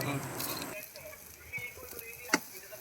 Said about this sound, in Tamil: எண்ணெய் காய்ந்ததும் கொஞ்சமாக கடுகு, சீரகம், சோம்பு, கடலைப்பருப்பு, அப்புறம் உளுத்தம்பருப்பு சேர்த்து நல்லா பொரிய விடுங்க